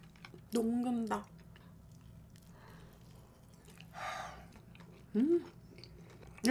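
Close, crisp chewing of sugared French toast with a few crunchy bites, separated by quiet pauses and brief bursts of voice.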